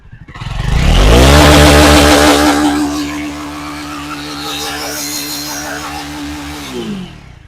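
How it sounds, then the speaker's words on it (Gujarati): A Jawa 42 Legend cruiser motorcycle engine revs up loudly and up close, then settles into a smooth, steady running note with even harmonics before winding down at the end, with no talking. "એકદમ સ્મૂથ અવાજ છે ગાડીનો જે ક્રુઝરનો હોવો જોઈએ"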